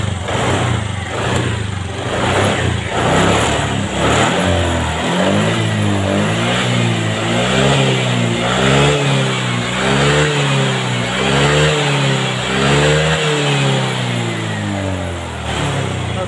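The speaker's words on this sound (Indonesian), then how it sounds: "coba kita gas" A Honda Vario 125 scooter engine, just after an ECU reset, idles and then revs repeatedly at close range, with the pitch rising and falling in a series of quick throttle blips over a steady engine drone.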